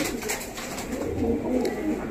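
Soft, repeated cooing from a female pigeon close by, a low throaty murmur rolling on continuously with faint background noise.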